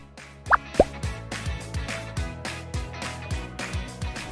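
Evaporated milk is poured into sweetened milk tea, giving a run of wet plopping and dripping sounds, a few sharper splashes early on, then steady rhythmic drops close by with no talking.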